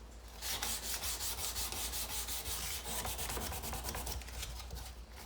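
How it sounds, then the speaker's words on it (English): Sandpaper is rubbed by hand along a steel knife blade in a knifemaking shop, a close, steady rasping of quick back-and-forth strokes with no talking. "what I'm doing is sanding out the previous sandpaper's grits, scratches, which were going this way."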